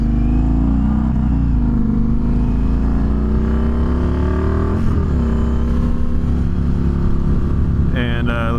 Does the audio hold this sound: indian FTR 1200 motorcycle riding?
yes